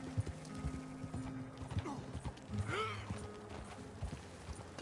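Horse hooves clip-clopping in Red Dead Redemption 2 while rounding up stragglers, a steady trotting rhythm of hoof falls with a brief whinny in the middle, set against faint game ambience.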